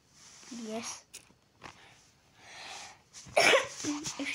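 Coughs with some throat clearing come in scattered bursts during a Brawl Stars mobile game session, close to the microphone, the loudest one near the end, mixed with faint game sounds.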